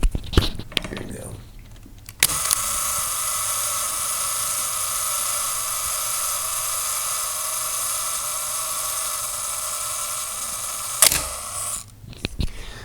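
Ricoh Singlex TLS film camera running its self-timer, a long, steady mechanical whirring buzz close up, bracketed by sharp clicks from the shutter release at start and finish.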